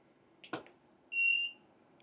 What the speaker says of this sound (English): Now that sounds like a trio of beeps